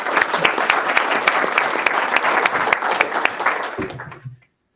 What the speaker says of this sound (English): give one more big round of applause for these students that came out here tonight